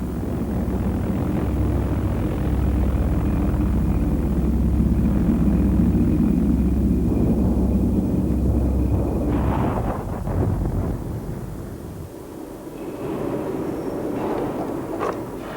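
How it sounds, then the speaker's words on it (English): A German V-1 flying bomb's pulsing engine drones loud and steady, then rattles and cuts out, followed by a rumbling impact and a lingering low roar. "When the missile reached its target, having traveled a preset distance, a simple device in the nose cut off the fuel with a final rattle"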